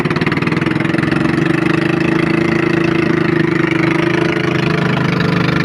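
A tourist boat's engine idles steadily at Wawa Dam in Montalban, Rizal, with a continuous close, loud, even mid-low rumble and no break.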